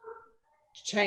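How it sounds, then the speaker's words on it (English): Dogs barking in the background of a home setting: a short burst of loud barking rises at the end, after faint muffled sounds. "you may hear the obligatory dogs in the background"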